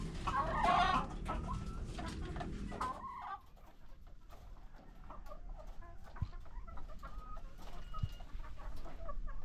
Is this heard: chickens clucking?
yes